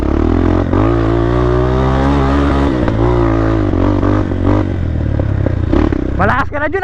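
Trail motorcycles such as a Rusi KRY 200 or MMC 250/150 strain up a steep dirt climb, engine loud and close with revving pitch swings, while people shout and talk over it.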